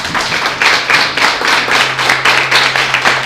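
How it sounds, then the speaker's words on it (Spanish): Church congregation applauding the Lord during a Spanish-language sermon, a steady burst of many hands clapping in rhythmic waves, loud and close, with a faint hum beneath and no talk. "¿Cuánto le pueden dar un aplauso al Señor?"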